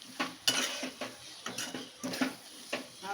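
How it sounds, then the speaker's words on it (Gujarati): Kantola (spiny gourd) curry being mixed in a pan on the stove, with a series of scraping, clinking spoon strokes against the metal, close and moderately loud over a faint background hiss. "ફરીથી આપણે મિક્સ કરી લઈશું"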